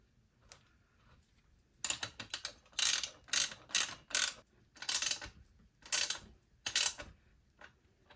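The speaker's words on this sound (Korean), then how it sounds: "근데 지금은 귀찮으니까 그냥 엑셀 너트를 조여줍니다" Wrench ratcheting as it tightens a motorcycle's rear axle nut, in repeated quick bursts of clicking with short pauses between them, close and fairly clear.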